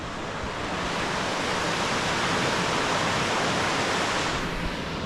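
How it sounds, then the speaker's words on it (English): The River Oykel in the Scottish Highlands rushes along nearby in a steady, loud broadband wash of flowing water that holds unchanged for several seconds, with no voices. "There's the River Oykel."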